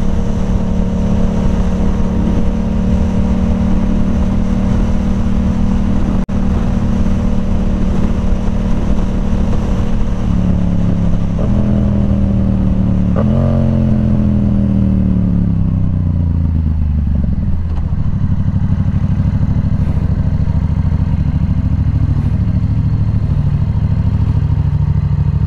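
A Yamaha R7 motorcycle with an aftermarket exhaust runs loud and close, holding a steady idle hum before the engine pitch climbs and falls through a few revs, then settles back to a low rumble.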